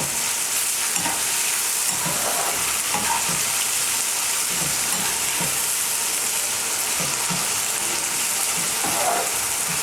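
Onions frying in ghee in a pan for a poppy seed dish, a loud continuous close sizzle with occasional soft stirring scrapes and no talking.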